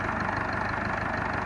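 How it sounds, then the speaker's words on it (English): A tractor engine idles steadily nearby, an even low chugging hum that holds constant throughout. "Just how well the engine's running"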